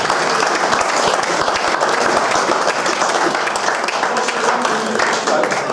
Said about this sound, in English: So, round of applause for everyone.